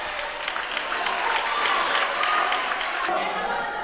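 Spectators at a Lucha Canaria wrestling match in the Canary Islands applaud and cheer in a loud, dense, continuous wash of clapping and crowd noise.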